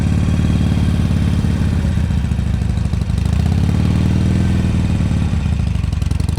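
A Harley-Davidson motorcycle engine lugging at very low throttle during slow-speed riding, a loud, close, continuous chugging rumble with a slight dip and swell in pitch.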